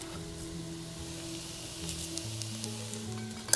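Tomato, salt and dry spices sauté in a hot pan, giving a soft, continuous sizzle with faint crackles and a light stir or clink near the end.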